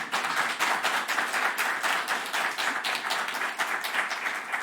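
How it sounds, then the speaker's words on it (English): Steady group applause from an audience at an online science symposium unconference session, even and continuous clapping throughout with no talking. "Do we want to do applause as they come up?"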